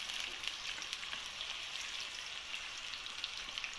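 Onions frying in a pan until golden, a steady dense sizzle and crackle with scattered pops running evenly throughout, no voices.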